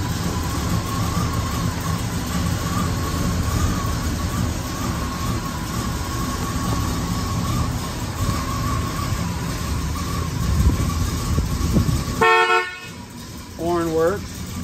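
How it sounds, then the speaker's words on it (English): The horn of a 1970 Oldsmobile 442 tribute with a 455 engine gives a short blast and then a second brief honk, following a stretch of steady engine and shop noise with someone talking. "Horn works."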